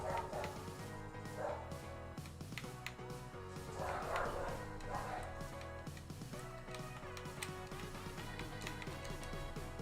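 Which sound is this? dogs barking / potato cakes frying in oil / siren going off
dogs barking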